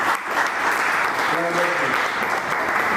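Loud applause from an audience at a Hindi-language event in Jaipur, a dense steady wash of clapping filling the whole stretch, with a brief voice rising through it midway.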